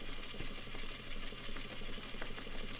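Sewing machine stitching lines into paper runs steadily and close, a fast continuous mechanical whir with a rapid needle patter and a low motor hum throughout, no voices.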